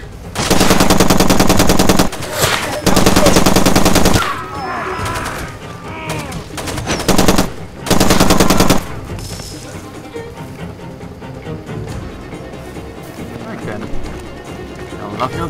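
In the game Far Cry 2, a light machine gun fires in long, loud sustained bursts with brief pauses, then trails off into scattered distant shots, with someone talking over parts of it.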